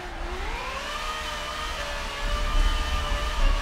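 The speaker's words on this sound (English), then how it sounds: "This car sounds sick." A high-pitched car engine whine in the drifting video game Forza 7 rises steadily as if revving through a gear, droning continuously with a rumbling low end that swells near the end.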